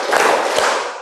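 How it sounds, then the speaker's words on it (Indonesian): A classroom of students in an Indonesian economics lesson claps together at a teacher's cue, a loud, dense burst of many hands lasting about a second with no talk. "Tepuk 3 kali."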